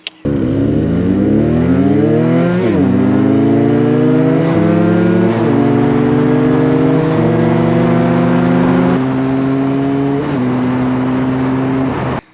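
A Benelli 302S motorcycle revs hard and accelerates up through its gears, the engine note climbing in pitch several times with short dips at each shift. Loud, steady and close, with no talking.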